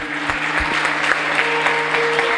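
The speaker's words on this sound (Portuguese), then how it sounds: "Vamos aplaudir o Senhor." A church congregation applauds after a prayer, steady dense clapping from many hands with a few sharper claps standing out, continuous and fairly close.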